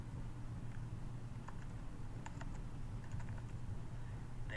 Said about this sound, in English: You're going to type your last name